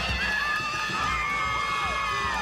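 Crowd at a 2012 high school football game between McDonogh 35 and Salmen cheers and shouts steadily, a dense, continuous roar of voices filling the stand for the whole stretch.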